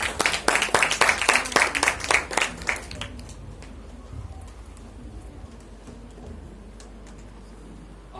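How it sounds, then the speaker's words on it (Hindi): Audience at a Congress political event in Jabalpur clapping for Annu Bhaiya, loud rhythmic claps in a quick even beat for about three seconds, then fading into quiet room ambience. "अन्नू भैया के लिए जोरदार तालियां"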